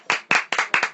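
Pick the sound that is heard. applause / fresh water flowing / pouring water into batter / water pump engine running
applause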